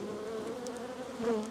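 Honey bees buzz at an open beehive of a big, strong colony during a hive inspection, a steady close drone with faint wingbeat flickers and no talk.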